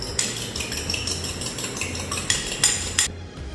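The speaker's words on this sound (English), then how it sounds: "we're just going to take one anda. We're going to give it a little bit of a mix" Utensil clinking and scraping in a bowl as one egg is briskly mixed for an egg wash, a steady clatter of metal against dish with a few sharper taps toward the end, close and alone.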